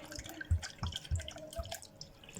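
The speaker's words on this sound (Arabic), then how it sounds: "حطيت عليه كوبايتين من الميه" Water is poured onto sugar, heard as faint, soft splashing and dripping with a few dull low plops at an uneven rhythm, close and quiet.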